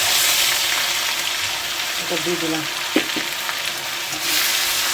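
Ginger, garlic and green chilli paste frying in oil left over from frying chicken for chilli chicken, with a loud, steady sizzle throughout, a few stirring clinks near the middle, and a brief spoken remark.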